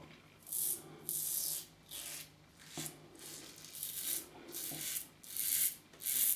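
A Rockwell 6S safety razor scraping across stubble in about a dozen short, rhythmic strokes, close and fairly quiet, with brief pauses between passes.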